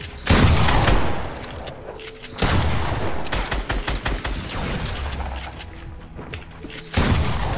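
Sniper rifle fire and other gunfire in the Fortnite video game, loud booming shots and rattling bursts repeated through the clip, each heavy report followed by more rapid fire.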